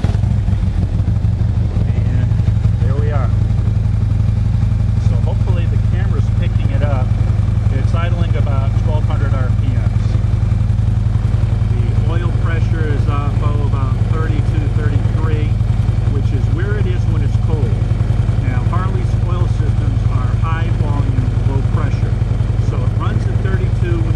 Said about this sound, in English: you're ready to just hit the start button and fire it up